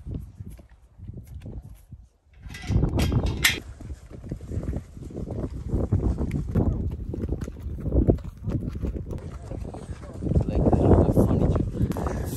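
Horses' hooves clip-clopping along a trail during a horseback safari in Loisaba, Kenya: steady walking hoofbeats, close and continuous, with people talking over them.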